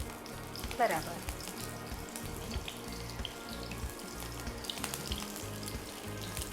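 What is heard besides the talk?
muthiya dumplings deep-frying in hot oil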